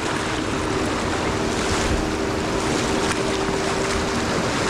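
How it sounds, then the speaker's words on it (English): Heavy rapids on a high-running trout river roar loudly and continuously, a dense steady wash of rushing water with wind buffeting the microphone. "you talking about some heavy rapids"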